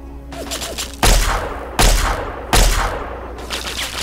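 Heavy automatic gunfire in Fallout 3 from a Talon Company mercenary's machine gun, three loud, sharp bursts about a second apart, each decaying into a rattling tail, with lighter shots in between and no voices.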